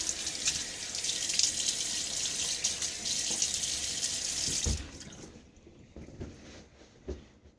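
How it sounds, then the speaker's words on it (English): Running water from a tap splashes steadily at a sink, with handfuls scooped and splashed onto a face before shaving, then the flow stops and a few drips and light knocks follow. "throw a little water on my face"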